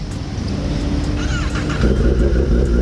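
A 1000cc superbike engine rumbles close by and rises in a revving surge toward the end, loud and continuous.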